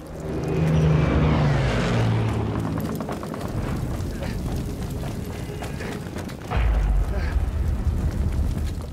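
Vehicle explosion in Battlefield V multiplayer: a loud, broad boom opens and rolls into a long rumbling, crackling tail, with a second heavy burst about two-thirds through, under game noise.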